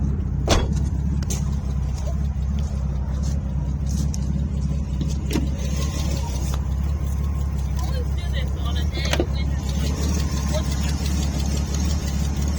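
A 1981 Chevrolet Citation X-11 idles steadily after a cold start while smoking heavily, a continuous low rumble with a few brief clicks and knocks. Wind noise runs over it throughout.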